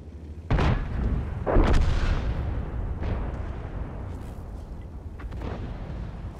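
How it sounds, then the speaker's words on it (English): A tank cannon fires in the World of Tanks video game from a T95/FV4201 Chieftain. Two heavy, close booms land about a second apart, each trailing into a long rumbling decay. No voices are heard. "He's able to get a good shot into the IS-7."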